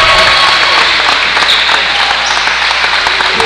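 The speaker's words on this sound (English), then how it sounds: "You can see the Crusaders fans, St. Michael's fans, just clapping it up for the team" Dense, loud applause from St. Michael's Crusaders fans in a high school basketball gym during a state semifinal, continuous clapping filling the room.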